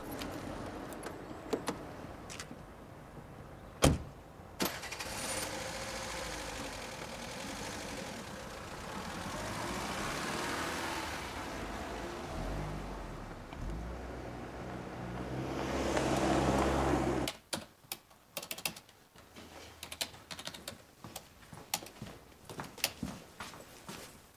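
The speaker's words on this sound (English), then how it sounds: "Just get in the car." Car engine hums at a low idle and then drives under scattered knocks and door or key handling sounds, growing louder near the middle before the steady tone ends abruptly.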